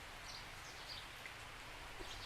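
Heavy rain pours down in a dense, continuous hiss with scattered droplet patter on surfaces, steady and fairly loud throughout, no talking.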